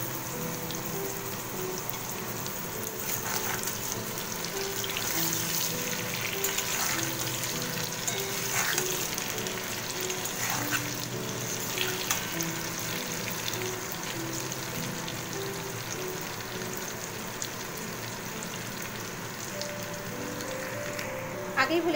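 Boiled potatoes fry lightly in oil in a pan with a steady, moderately loud sizzle, broken by occasional scraping and stirring clicks throughout.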